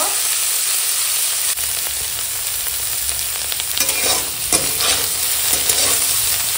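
Steamed cauliflower, beans and carrot frying lightly in oil in a kadai, a loud continuous sizzle with occasional stirring scrapes, close up with no talk.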